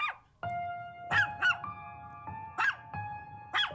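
Several small dogs bark indoors in a house, sharp high yaps coming in short bursts of two or three, fairly close with brief pauses between.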